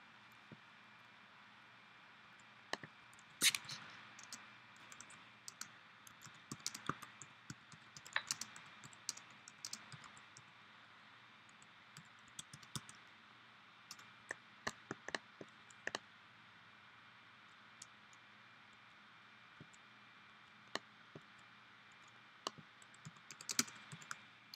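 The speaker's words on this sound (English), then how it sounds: "My dog stepping on my keyboard." A dog stepping on a computer keyboard, producing scattered, irregular key clicks and clacks over a quiet background, some taps sharper and louder than others.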